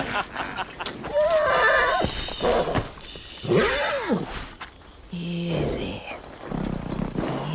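A horse neighs in the video game Ghost of Yotei, giving several whinnies and snorts at moderate distance, mixed with game sounds and voices talking.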